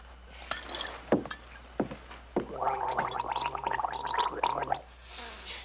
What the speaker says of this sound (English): Gargle.